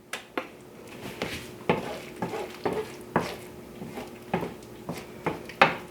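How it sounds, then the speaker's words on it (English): A spoon stirs sausage mushroom gravy in a pan, the gravy sizzling softly throughout while the utensil scrapes and taps the pan about a dozen times, close up and alone. "Give your gravy a stir."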